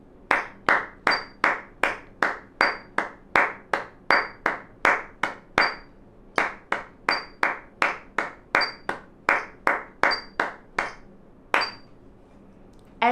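A person claps along with alto saxophone practice and a metronome, a long run of crisp, evenly spaced claps in a steady two-beat pulse, each sharp and close, with faint metronome pings at intervals.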